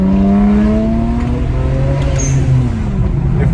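The turbocharged engine of a BMW 335i on a road drive hums loudly and continuously from inside the car, with its tones shifting in pitch as it pulls.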